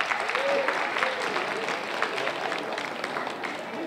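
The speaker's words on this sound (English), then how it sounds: "let's all give him a round of applause for helping out" Sustained audience applause at a Greek community Christmas event, a dense even patter of many hands clapping from a moderately sized crowd, steady throughout with a few voices under it.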